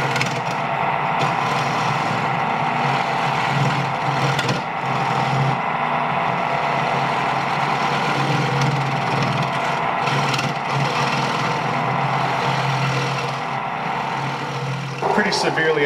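A wood lathe spins a pear wood bowl while the bottom nub is turned off, a loud steady motor drone with rough cutting noise throughout and brief dips, speech faintly under it.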